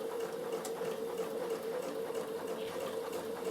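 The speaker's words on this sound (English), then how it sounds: "I'm slowly going to go around, and that's going to be my width for my top stitch" A Bernina sewing machine top stitching around a summer peak cap runs at a steady, even hum, a continuous quiet mechanical drone without pauses or speech.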